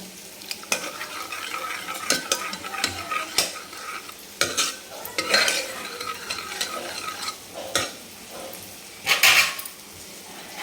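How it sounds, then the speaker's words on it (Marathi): Cooked mixed dal is mashed in a pot, giving irregular scraping, stirring and sharp metallic clanks of the utensil against the pot, with brief pauses between bursts. "अपन आता डाळ घोटून घेऊ"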